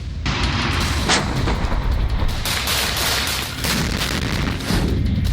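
Bombs and artillery fire in wartime Kyiv, Ukraine, as a dense, loud, continuous roar of booms and blasts with no pauses, heavy and rumbling throughout.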